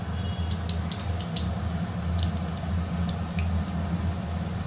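Whole spices tempering in hot ghee with fried vegetables in a home kitchen, a soft steady sizzle with occasional light clinks of utensils against the pan.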